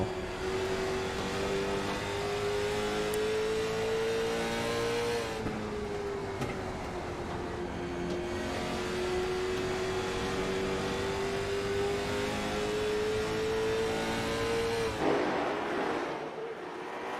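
A late model race car engine at North Wilkesboro, heard from onboard during a close race, drones loud and continuous, its pitch climbing and easing back as the car works through the laps.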